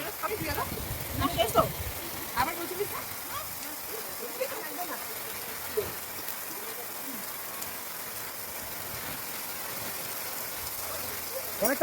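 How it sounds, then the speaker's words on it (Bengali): Steady hill rain hisses across the whole clip at a riverside cafe by the Torsha River, with a few louder splashes and voices early on before settling into a constant wash. "এখন আরো অনেকটা জোরে বৃষ্টি আসলো"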